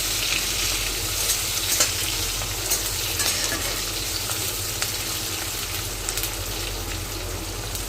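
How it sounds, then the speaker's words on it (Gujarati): Chopped capsicum sautéing over a high flame in oil for vaghareli khichdi gives off a loud, dense, steady sizzle that runs unbroken throughout, with no voices. "જે આપણે સુધારેલા શાકભાજી છે કેપ્સિકમ નાખીશું। થોડા ફાસ્ટ ગેસ પર એને સાંતળી લઈશું।"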